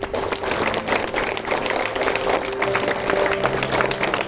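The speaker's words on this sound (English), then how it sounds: "I think they deserve a big round of applause" A school assembly audience claps for a Class III group, a continuous wash of many hands with some crowd murmur and a faint tonal hum underneath, steady and fairly loud throughout.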